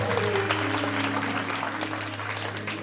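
An audience at a devotional bhajan gathering breaks into sustained, dense applause, a steady close clatter of many hands clapping with a low hum beneath.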